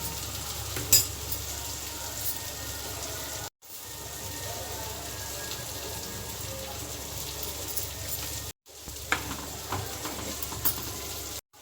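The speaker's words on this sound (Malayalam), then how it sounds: "നമ്മുടെ മീനിവിടെ രണ്ട് സൈഡും ഒരുപോലെ മൂത്ത് വന്നിട്ടുണ്ട്" Steady oil sizzle of fish frying in a pan, constant and close, with brief cut-outs and a few small clinks.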